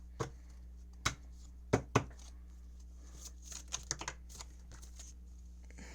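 Several sharp papery flicks and slaps as large, stiff tarot cards are shuffled by hand, irregular and close, with softer rustling between.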